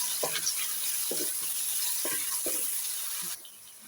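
Chopped onion sizzling in a pan for mutter keema, a steady soft frying hiss broken by several light scraping stirs, fairly quiet, before the sizzle suddenly drops lower near the end.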